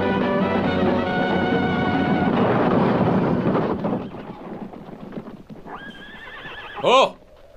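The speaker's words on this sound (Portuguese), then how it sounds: "eu vou dar água para os cavalos" Horses in a 1968 western, with a stretch of steady hoof clip-clop and rumble that fades out, followed by a loud, close neigh near the end.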